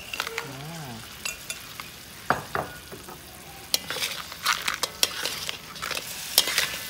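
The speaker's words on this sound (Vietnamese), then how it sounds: "Xào đều vô cho thấm vô ghẹ" Fried crab is stir-fried in black pepper sauce in a pan, with sizzling under scraping and clattering stirs. The stirring comes in irregular bursts, close up and fairly quiet.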